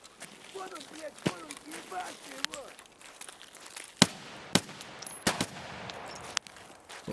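AK-74M rifle shots in Escape From Tarkov, a handful of sharp, isolated cracks spaced a second or so apart, mixed with footsteps and faint background chatter and movement.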